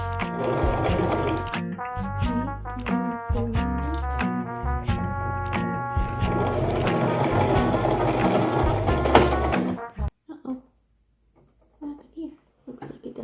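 Home sewing machine stitching the end of a scrunchie, a rapid mechanical whirr in short bursts followed by a reverse backstitch, close and loud, with someone speaking over it before it stops.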